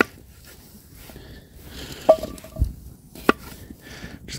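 Knife chops through white and red potatoes on a cutting surface, cutting them into quarters for a backyard cookout: a few sparse, quiet, close thunks spaced out over a few seconds in a quiet setting.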